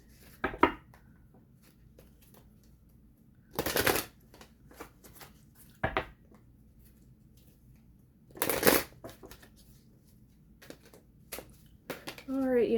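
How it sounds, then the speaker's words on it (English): Tarot cards shuffled in a few separate bursts of riffling up close, with quiet pauses between and a voice briefly at the end. "we're going to do some shuffling here"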